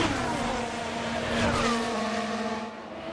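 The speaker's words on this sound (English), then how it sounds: "Here comes the Ferrari." A Ferrari Formula 1 car in the racing game F1 Manager 24 sweeps past during a sprint weekend in China, its high engine whine droning loud and steady before bending down in pitch as it pulls away, with no voices.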